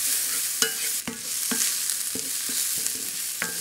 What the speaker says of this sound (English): I just want to saute these off until the onion has softened.